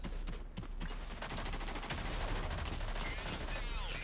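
Spitfire pistol fire in the video game Rogue Company, with rapid repeated shots in bursts among other gunfire and game effects, fairly dense and continuous.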